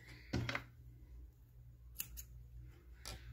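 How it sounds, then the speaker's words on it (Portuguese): Two quick snips of scissors cut crochet thread for a baby sandal, sharp and close in a quiet room, the first around a third of a second in and another near the two-second mark. "Já vou até cortar aqui o meu fiozinho."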